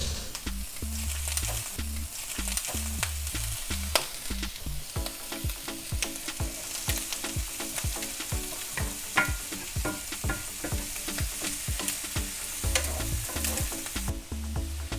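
Brussels sprouts and bacon fry in butter in a pan, a steady close sizzle broken by repeated scraping and clattering strokes as the mixture is stirred and kept moving.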